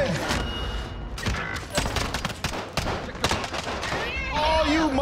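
Gunfire in the Warzone battle royale game, rapid bursts and single sharp shots crackling in irregular clusters, some close and loud, with a player's voice and brief game sounds near the end.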